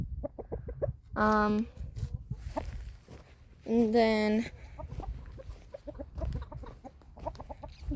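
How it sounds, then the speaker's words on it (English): Chickens and a rooster on a backyard farm cluck and squawk, with two loud drawn-out calls standing out among choppy clucks while a person talks over them. "over here we have our bigger chickens. This is Morgan, our rooster."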